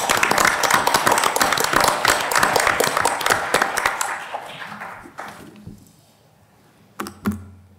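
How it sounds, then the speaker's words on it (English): Audience applause at a Hyde Park town meeting, a dense burst of clapping that thins out after several seconds, ending with a few scattered claps. "Let's give her a round of applause and thanks."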